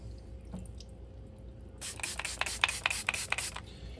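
Water rinses a straight razor and a vintage Charnley Forest honing stone, heard as quiet handling at first and then a close run of splashy bursts and drips in the second half.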